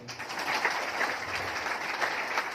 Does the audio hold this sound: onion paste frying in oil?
no